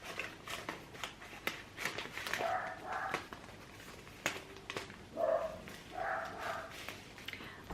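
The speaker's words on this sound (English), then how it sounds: "this entire clip has probably been quite chaotic with the dogs barking in the background" Dogs bark intermittently in the background of a spring English country garden, short scattered yaps and woofs at moderate distance over outdoor ambience.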